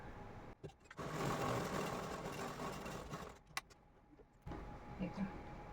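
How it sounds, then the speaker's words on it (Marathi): Sewing machine stitching a puff sleeve lining: close, fast, steady whirring runs of stitching in two bursts, separated by a short pause, with a faint voice heard softly near the end. "ह्याच्यावर एक अर्धा इंचावर आपण टीप मारून घेऊया"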